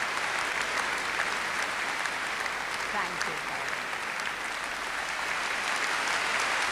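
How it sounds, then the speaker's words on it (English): Warm audience applause fills a hall at a 1993 Leeds piano competition awards presentation, steady and dense throughout, with a brief spoken thanks near the start. "Warm applause from the audience."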